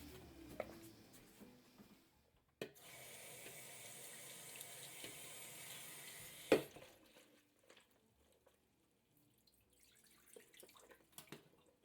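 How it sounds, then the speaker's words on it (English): Kitchen sink faucet running as food is rinsed under it, the water switching on with a sudden splash, flowing in a steady hiss for several seconds, then shutting off into scattered drips and soft handling noises. "I'm just going to rinse it under the sink real fast"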